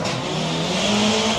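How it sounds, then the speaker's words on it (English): Vauxhall Corsa drag racing at speed down a strip, a loud continuous engine roar with a rising whine and tyre squeal, heard from trackside without talk. "You can hear the tyres squealing all the way down the track."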